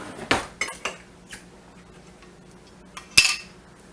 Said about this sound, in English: So I'm going to start dumping stuff in the pot here.